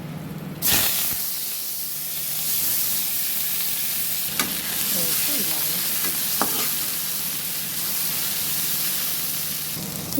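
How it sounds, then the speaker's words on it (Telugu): Cinnamon and clove drop into hot oil in a pan for fried rice, bursting into a loud, close, continuous sizzle and hiss with a few sharp clicks of a utensil. "ఇప్పుడు అదే ఆయిల్లో ఒక చెక్క ఒక లవంగం"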